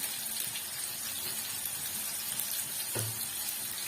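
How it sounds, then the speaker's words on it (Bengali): Potatoes frying lightly in a pan while an ilish fish soup is being made, a steady close sizzle and crackle with a brief louder pop near the end, no voices. "আলুটা কিন্তু আমার ভাজা ভাজা হয়ে যাচ্ছে হালকা"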